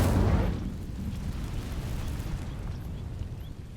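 A burst of fire from the Incendio spell igniting dry vines in Hogwarts Legacy, a loud whooshing roar at the start that settles into a steady crackling rumble of burning for several seconds.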